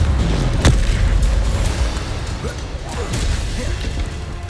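Hogwarts Legacy combat with a Confringo blasting spell: a sharp explosive burst near the start, then a dense roar of rumbling impacts, whooshes and clattering spell effects that keeps going loud throughout.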